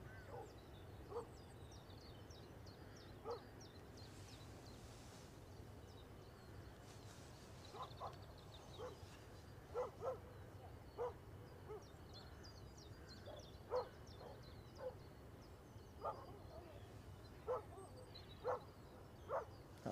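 A dog barking in the distance, sharp single barks spaced irregularly over a steady low outdoor rumble, growing a little more frequent toward the end.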